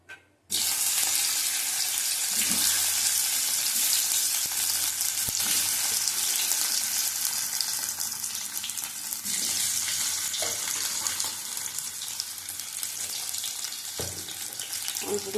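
Potatoes fry in hot oil, a dense, loud, steady sizzle that starts abruptly after a brief quiet moment, with occasional soft stirring knocks.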